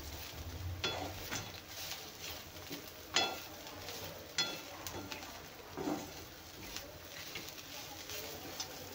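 Grated ridge gourd peel fries in oil in a pan, a soft low sizzle broken by intermittent scraping stirs and utensil taps, fairly quiet and close.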